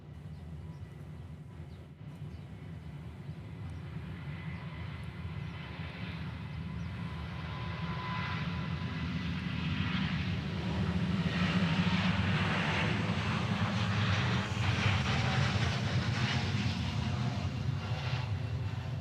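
A plane passing over Honolulu airport, a broad engine roar that swells gradually from moderate to loud and holds steady, heard at a distance without talk.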